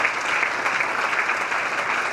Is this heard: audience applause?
yes